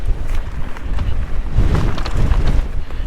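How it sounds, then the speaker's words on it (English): Wind gusting across a microphone on a mountain bike trail near Santa Barbara, California, a loud continuous rumbling buffet that swells stronger toward the end. "much more windy right here than it is at top."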